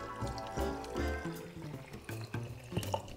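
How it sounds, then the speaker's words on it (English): Cold water poured into a container of pancake mix, a steady splashing, gurgling stream that is close and fairly loud, running alone for about three seconds. "Add 290 mils of cold water."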